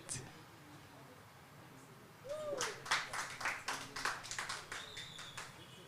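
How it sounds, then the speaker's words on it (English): Applause for a poet at a writers' gathering in Kigali, Rwanda: a room of hands clapping after about two seconds of quiet, swelling into dense, steady clapping with a few sharper taps, moderately loud and close. "A big round of applause."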